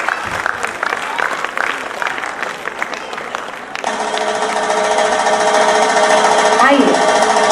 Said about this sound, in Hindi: को मैं तालियों की गड़गड़ाहट के साथ मंच की ओर आमंत्रित करती हूँ।